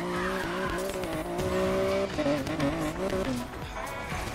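Car engine and tyre squeal from the Need for Speed Payback racing game, a steady loud roar with shifting engine pitch and skidding tires throughout, no talk.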